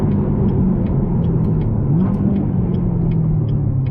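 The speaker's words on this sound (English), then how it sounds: "And boy, do those rev matches sound glorious." Chevrolet Corvette C7 ZR1 with 52,000 miles, its engine holding a loud, steady close-up rumble with a slight rise and dip in pitch, alone with no voices.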